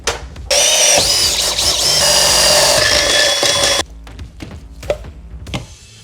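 Drilling holes in a RAM ProMaster van to mount Holman folding shelves: a loud whining power drill runs for about three seconds, then stops, followed by several sharp knocks and clatters of tools.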